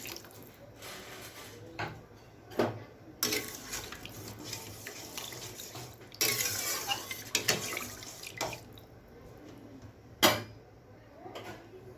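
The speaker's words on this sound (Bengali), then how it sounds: "এবার আমি জল দিয়ে দিচ্ছি জলের পরিমাণটা একটু বেশি দিতে হবে" Water pours and splashes into a pot of frying lentils and potatoes, an uneven close stream with clinks and bursts of splashing.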